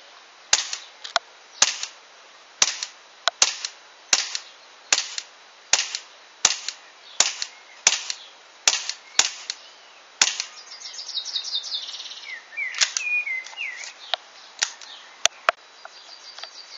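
A Colt 1911 STI Lawman airsoft pistol fires BBs at a target, giving a long series of sharp, evenly spaced pops with faint rattling between some shots.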